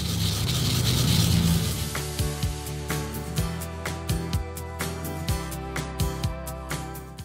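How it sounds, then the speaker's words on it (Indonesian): Garlic being grated for a honey glaze brushed on grilled beef ribs, a steady close rasping scrape that gives way to a run of short rhythmic strokes and taps, with no talking. "bawang putihnya diparut saja"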